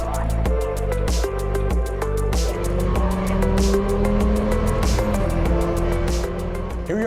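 Race cars at Willow Springs Raceway, the oldest permanent track in the United States, their engines droning loud and steady with shifting pitch as they run, accompanied by rhythmic music over the whole stretch.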